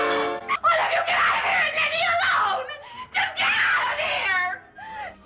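A woman's scream from the 1959 horror film House on Haunted Hill, loud, harmonic wails and shrieks in several bursts with whimpering sobs between them.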